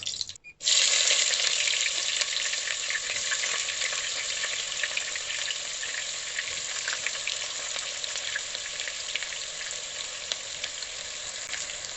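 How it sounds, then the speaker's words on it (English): Onions dropped into hot coconut oil in a pan burst into a loud, dense sizzle that holds steady as they are stirred, with no talk. "next is to add in the onions once the oil has heated up"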